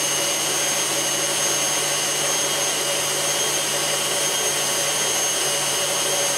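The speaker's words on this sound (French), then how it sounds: "J'accélère le batteur et je laisse battre jusqu'à ce que la meringue soit entièrement refroidie." A stand mixer whisks Italian meringue for cherry macarons at high speed, a loud, steady motor whine with a constant hum that runs unbroken throughout, close by and with no voices.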